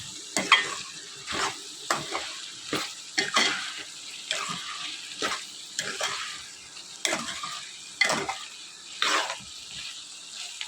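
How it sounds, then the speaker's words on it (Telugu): Flat beans and chicken curry being stirred in a pan, with repeated rhythmic scraping strokes of the spoon over a soft, wet sizzle, close and clear, with no one talking. "ఇలా కొంచెం సేపు చిక్కుడుకాయలు మగ్గిన తర్వాత చిక్కుడుకాయలు మొత్తం కూడా మిక్స్ చేసుకోవాలి."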